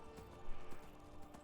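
Horse hooves running in the game Skyrim: faint, quick clip-clop beats in a loose galloping rhythm under steady low background noise.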